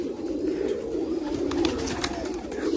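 A flock of Giribaz pigeons in a loft keeps up a dense, continuous chorus of low cooing, close and fairly loud, with no talking.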